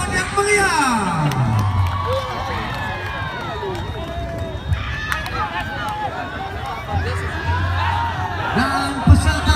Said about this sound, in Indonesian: Mari kita kasih tepuk tangan yang meriah.